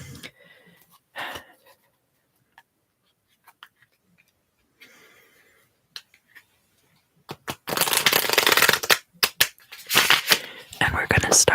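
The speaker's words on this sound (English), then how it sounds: "come over here and shuffle some papers" Papers rustle and shuffle in bursts, soft at first, then loud and busy for several seconds near the end, with quiet pauses in between.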